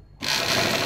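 A sewing machine runs steadily while stitching along a kurti neckline, starting abruptly after a brief quiet moment and then holding a close, even, buzzing whir.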